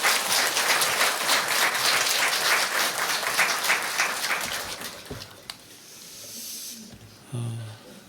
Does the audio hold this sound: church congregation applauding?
yes